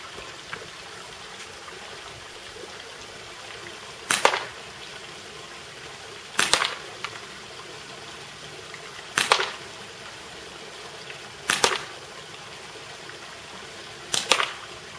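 A CO2-powered 1911 non-blowback airgun fires five shots at a target from 50 feet, each a sharp crack spaced two to three seconds apart over a faint steady background hiss.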